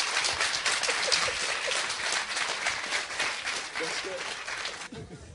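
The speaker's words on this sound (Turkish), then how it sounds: "Alkışlar mıyız lütfen?" A studio audience at a Turkish talk show breaks into steady, dense applause that lasts several seconds and then cuts off abruptly, with a voice heard faintly underneath.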